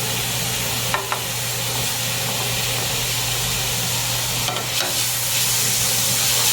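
Beef strips brown in a lightly oiled frying pan with a steady, close, loud sizzle and hiss, and a couple of faint clinks from stirring. No one talks.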